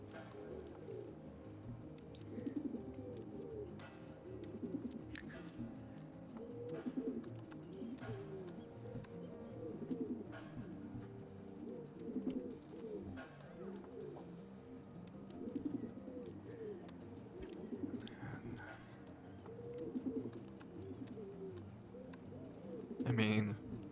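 Pigeons coo in a video game, their soft, throaty, repeated calls overlapping in a steady, moderately quiet flock chorus that carries on without a break. A short, sharper sound cuts in near the end.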